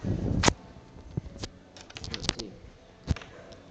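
Keys click and clack on a computer keyboard as a gcc compile command is typed, with scattered sharp taps and one or two louder strikes close up and no voices.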